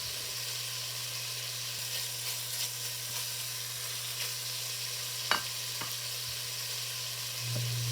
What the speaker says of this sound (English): we will saute our vegetables in this wonderfully flavored fat. Starting with 1/2 of a white onion